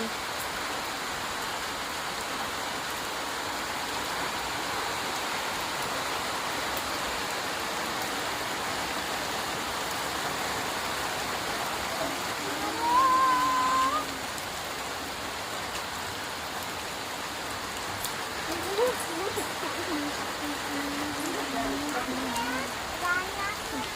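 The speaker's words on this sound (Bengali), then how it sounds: "প্রচুর জোরে বৃষ্টি পড়ছে" Steady heavy rain pours down in a constant hiss, with a couple of brief faint voices and small noises briefly rising above it.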